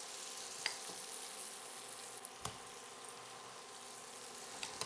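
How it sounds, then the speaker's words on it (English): A split English muffin spread with mayonnaise toasts face down in a hot skillet, giving a faint, even, continuous sizzle with a few small crackles and pops. "You spread some mayonnaise on a split English muffin. Put it down in the hot skillet."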